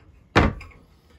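A pantry door inside a 2021 Winnebago Micro Minnie 1800BH camper trailer closes with a single close, solid thump, followed by a brief faint rattle as it settles, in an otherwise quiet interior.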